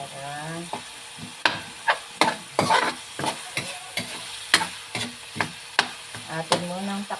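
Pork sizzles and fries in a pan for a Filipino pakbet, with a utensil scraping and stirring in a steady run of sharp, close strokes, and a faint voice appears only briefly.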